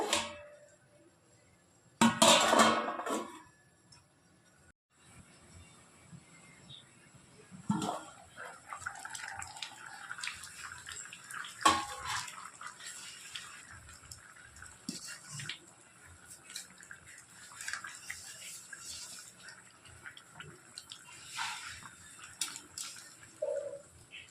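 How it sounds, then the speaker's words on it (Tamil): Drumstick sambar simmers in a pot on a gas stove, giving a faint, steady bubbling and soft watery ticks close by, with a sharper clatter near the start. "இது நல்லா ஒரு அஞ்சு நிமிஷம் கொதித்து வரட்டுங்க"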